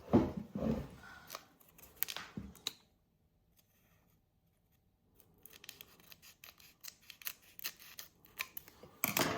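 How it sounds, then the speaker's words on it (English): Scissors cutting open a Pokémon card pack: several crisp snips and rasping cuts close up, a quiet pause in the middle, then more scraping, crinkling cuts and rustling to the end. "I'm gonna grab a pair of scissors."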